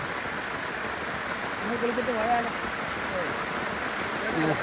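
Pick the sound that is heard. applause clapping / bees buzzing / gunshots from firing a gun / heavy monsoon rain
heavy monsoon rain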